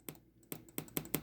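Default impulse of a convolver plugin, a short sharp click repeated five times at uneven intervals, faint and dry with no voices.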